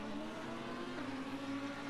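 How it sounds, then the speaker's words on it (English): Race car downshifts in the Assetto Corsa Competizione sim at the Nürburgring 6 Hour, a faint engine drone with tonal pitch steps as the gearbox changes down, held steady and fairly quiet. "Musical gearbox changes, downshifts."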